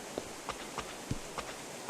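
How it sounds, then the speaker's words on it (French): Video game footstep sound effects: a quiet, steady run of about seven soft steps, evenly paced roughly three per second, with no other sound. "Donc là on a nos bruits de pas."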